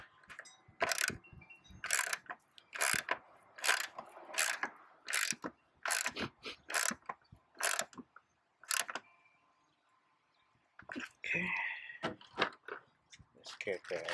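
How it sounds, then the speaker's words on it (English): Ratchet wrench clicking in repeated bursts while turning bolts on a Mazda 6 hood support shock, close and loud, with a short spoken remark near the end. "So let me get the wrench, ratchet in."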